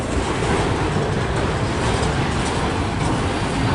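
A long CSX M200 eastbound freight train rolls past at close range in Fostoria, Ohio, a loud, steady rumble and roar of wheels and cars with faint clickety-clack throughout.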